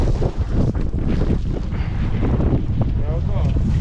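Steady, loud wind buffets the microphone throughout on a farm field during soybean sowing, a dense rumbling roar with gusty fluctuations and no clear voices.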